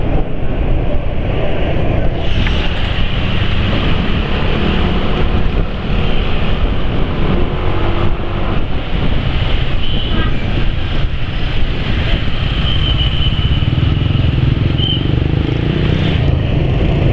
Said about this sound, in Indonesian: Tuh motor yang kerawat bodi nih, tapi suara mesinnya kan kasar toh ya.